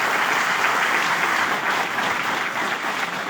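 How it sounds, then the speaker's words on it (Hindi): Audience applause at a pre-launch seminar event in Lucknow, a dense, steady wash of many hands clapping together, fairly loud and continuous with no voices over it. "उनके लिए भी तालियां चाहूंगा आप लोगों से।"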